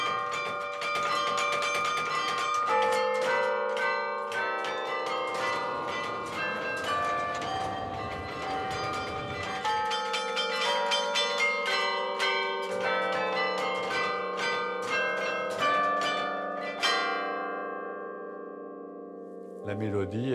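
Carillon bells ring out Le P'tit Quinquin, struck by a gloved carillonneur in the Lille area; bright, overlapping bell tones form a continuous melody, loud and close from inside the tower, with long ringing decay at the end.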